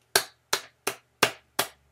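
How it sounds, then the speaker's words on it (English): Six separate, sharp claps from a single person in a slow, evenly spaced rhythm form a small golf clap, each crisp and close with short silences between. "A small golfer clap from Winter Haven, Florida for Greg."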